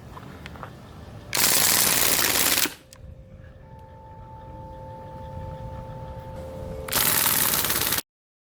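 A Crosman DPMS SBR BB rifle fires full auto in two loud, rapid bursts, the first lasting over a second and the second near the end, with a faint tone and quiet background between them.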